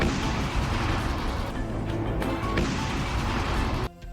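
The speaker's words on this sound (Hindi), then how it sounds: "फिर हुआ ऐसा धमाका जिसने रूस की नेवी को हिलाकर रख दिया" A loud, sustained roaring blast from a Neptune missile strike on a Russian navy ship rumbles continuously for several seconds, then cuts off abruptly into a quieter low hum.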